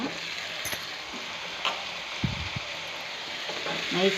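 Onions, potatoes and carrots fry in a pan with a soft, steady sizzle, punctuated by a few light clinks and scrapes of a utensil against the pan.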